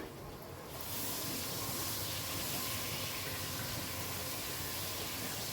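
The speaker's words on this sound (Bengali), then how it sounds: "আলুগুলোকে আমি ফ্রাই করে নিচ্ছি" Potatoes frying in a pan over a high gas flame: a constant, close, loud hissing sizzle that swells after a softer first second and holds steady throughout, with no talk.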